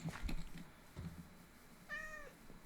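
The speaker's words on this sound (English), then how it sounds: "there is the black cat" A black cat in the Minecraft video game gives a single clear meow with harmonic upward-bending tones, preceded by soft game footsteps and thuds; no one speaks.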